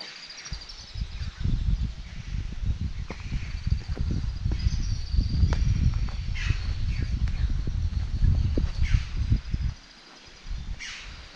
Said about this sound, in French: Je ne sais pas si vous entendez les oiseaux.